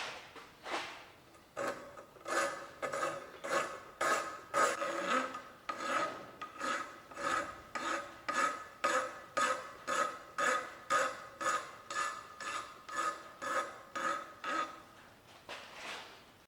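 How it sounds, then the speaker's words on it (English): A hand file rasps across a forged metal wing nut in a blacksmith's shop. It makes loud, rhythmic back-and-forth strokes, about two a second and evenly spaced, with no talk. "And we're gonna do filing."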